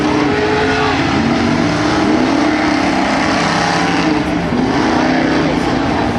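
Formula 4x4 off-road race vehicles at an ERX Motorpark race, a loud, continuous engine roar with changing pitch as the machines run through a section.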